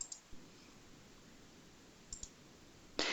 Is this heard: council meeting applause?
no